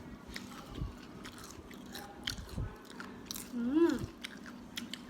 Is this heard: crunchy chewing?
yes